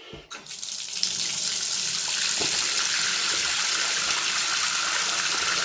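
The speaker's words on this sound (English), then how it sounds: "we'll fill up this here with some water and do the old water test" Water from a tap filling a container for a bike inner tube leak test, a steady rushing splash that starts after a brief clatter and continues evenly, close and alone.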